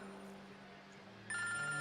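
A telephone rings faintly in an indoor domestic setting, a steady electronic tone that grows louder and brighter toward the end of the short moment, with no one talking.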